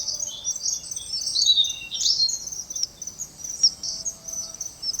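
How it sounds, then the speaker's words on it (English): Chirping bird calls of a common blue kingfisher in the Western Ghats of India, a series of thin high tweets repeating over steady faint insect hum, moderately close and without talk. "move on to the common blue kingfisher"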